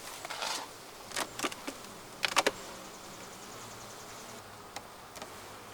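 Honey bees buzz around an open Flow Hive with a laying-worker problem: faint, intermittent buzzes pass close by over a quiet background, with no voices.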